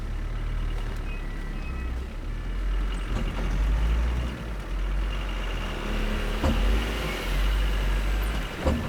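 An old car drives slowly on rough ground, lopsided with one wheel lifting, its engine a steady low rumble that swells and fades, running continuously with no talk.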